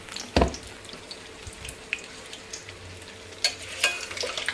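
Potato and chilli bajji fry in oil in a kadai with a low continuous sizzle, punctuated by a few sharp louder pops and splutters.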